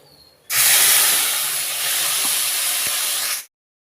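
Cumin seeds and dried red chillies hit hot oil with a sudden loud, bright sizzle that holds steady for about three seconds, then cuts off abruptly.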